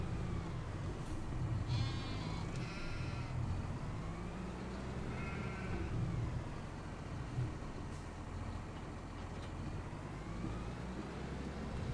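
Sheep in the Farming Simulator 25 game bleat in a few wavering calls at mid distance over a constant low rumble of ambient game noise.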